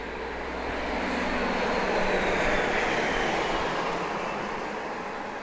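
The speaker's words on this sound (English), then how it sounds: "now I do believe I see the United plane in sight." A United airliner arriving at Grand Cayman airport produces a broad, rushing jet roar that swells and then holds steady, heard from a distance outdoors with no talking.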